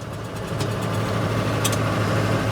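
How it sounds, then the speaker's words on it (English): An old Ford F100 pickup truck engine idles fast and steady at close range, a continuous low rumble with no talking over it. "Definitely need to turn the idle down."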